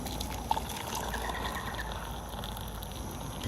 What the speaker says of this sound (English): Let's just tip a cup of water into this.